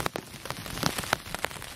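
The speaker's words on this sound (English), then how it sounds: "Started to rain" Rain patters on an umbrella on the Appalachian Trail, making scattered close drops and soft taps against a quiet background.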